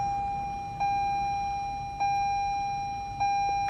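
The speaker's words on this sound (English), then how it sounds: "It's gonna beep a few times and that's all." Steady electronic tone with three short beeps at even intervals, a car chiming during startup in a quiet cabin.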